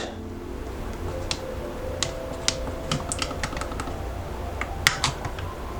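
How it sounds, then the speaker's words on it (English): Keys tapped on a computer keyboard while setting up a portable gaming PC, a steady run of light, close clicks with a few sharper strokes, heard alone over a low background hum. "Oh, it wants me to use a keyboard."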